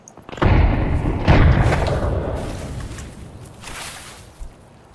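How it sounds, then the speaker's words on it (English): A grenade goes off in Escape from Tarkov: two heavy, close booms about a second apart, then a long rumbling tail that fades, with a small thump near the end. "I threw a grenade."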